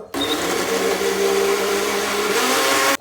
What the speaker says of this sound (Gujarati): તો આપણું આ મિક્સર ગ્રાઇન્ડરમાં મિક્સ થઈ ગયું છે